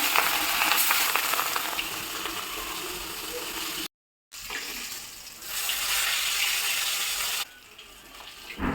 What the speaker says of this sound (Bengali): এবারে আমি রুই মাছটা ভেজে নেবো